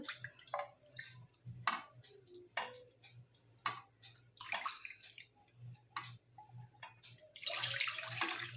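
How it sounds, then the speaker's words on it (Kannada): Water poured into a vessel for making modak during a Ganesha festival kitchen: a series of short splashes and drips, then a sustained pouring rush near the end, close and moderately quiet. "ಯಾನು ಮೋದಕ್ ಮಲ್ಪರೆ ಒಂಜಿ 4 ಕಪ್ ದತ್ತು ನೀರು ಪಾಡೊಂದುಲ್ಲೆ"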